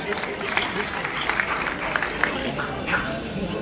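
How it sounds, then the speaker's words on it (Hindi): An audience at a Meera festival event applauds to welcome a speaker, a broad wash of steady clapping from many hands with a murmuring crowd and some voices mixed in. "एक बार जोर से ताली बजा के आपका स्वागत कीजिए"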